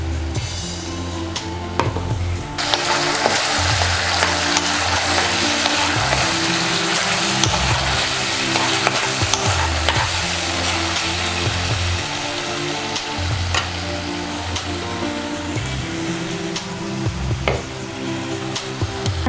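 Tamarind juice and rice powder frying in a pan for pulihora, a loud sizzle that bursts in abruptly and keeps crackling steadily, with occasional stirring scrapes.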